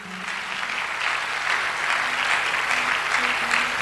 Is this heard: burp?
no